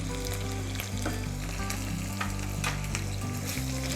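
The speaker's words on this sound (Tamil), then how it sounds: "இப்போ நம்ம இந்த மிளகா பொடி பேலன்ஸ் வச்சுருந்தோம்ல, அதை ஆட் பண்ணிக்கலாம்." Ginger, garlic and chilli powder sautéing in hot oil for kalyana dalcha, a loud continuous sizzle and fry with a few stirring scrapes throughout.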